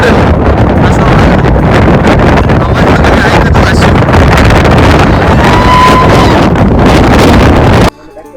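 Strong wind on Harishchandragad mountain at night roars continuously into the microphone, buffeting loudly throughout before cutting off abruptly near the end.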